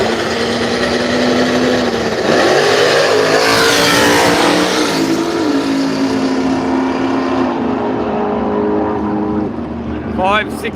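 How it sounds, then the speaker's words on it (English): A COPO Camaro drag race car launches and accelerates down the strip at Willowbank's radial drags, a loud engine whose pitch climbs in repeated sweeps as it pulls away and fades, with an announcer's voice running underneath. "123 mile an hour in the left lane to the Coppo Camaro"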